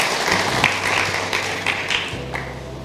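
Church congregation clapping together, a dense patter of many hands with a few sharper taps over a low sustained musical hum, moderately loud and continuous for a few seconds.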